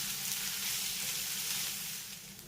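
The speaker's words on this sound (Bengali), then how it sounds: "পেঁয়াজটাকেও আমি হালকা করে একটু ভেজে নেব" Chopped onions, about a cup, frying lightly in leftover oil, giving a steady, even close-up sizzle that holds constant without any voices.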